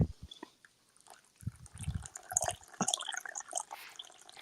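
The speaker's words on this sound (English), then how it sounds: "I was pouring water into my coffee cup." Water poured into a coffee cup, heard as a run of close, small splashing drips and trickles that thicken into a brief filling gurgle, with no talk over it.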